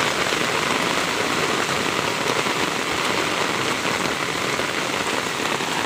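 Heavy rain pours steadily on a wet street after school, a dense, loud, unbroken hiss of drops spread evenly through the whole stretch with no voices.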